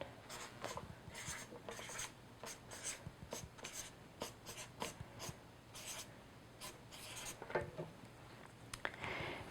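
A pencil or marker writing numbers onto a multiplication chart, with quick repeated scratchy strokes in short bursts and pauses, close and quiet, no talking.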